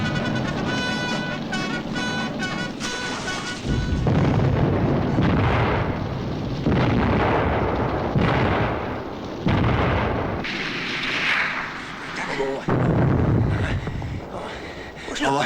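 Cannons fire during a naval landing in a 1982 Russian period drama. Several heavy booms roll out over a busy mix of voices and tonal background sound.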